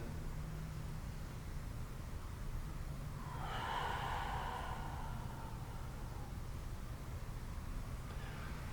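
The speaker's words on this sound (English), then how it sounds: "We'll go one more big exhale." A single long exhale during a guided upper-body mobility recovery session, a soft breathy rush rising for about two seconds and fading, heard alone over steady low background hiss.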